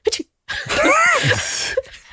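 A voice imitates a loud sneeze, a single drawn-out wheezing burst with a rising nasal build-up and sharp release, standing alone after a brief pause.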